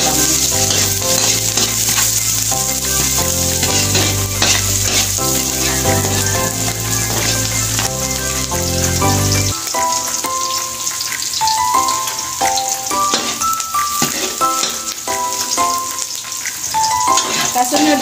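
Garlic sizzles in a pan for Filipino kare-kare, a steady close frying hiss that runs throughout under loud background music.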